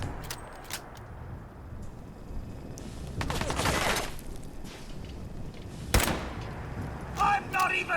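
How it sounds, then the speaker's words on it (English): Gunfire from raiders in the video game Fallout 4, with several sharp shots and a louder burst near the end, heard over a steady background of game ambience. "Got shot at, trying to figure out who's shooting at me."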